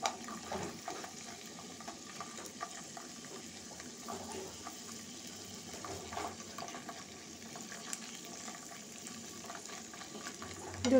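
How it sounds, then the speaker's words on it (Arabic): Food frying in oil in a pan while it is stirred slowly, a steady soft sizzle with faint scraping and light clinks throughout, no one speaking. "هكا نبقى كنحرك شويه بشويه حتى يتقلى مزيان"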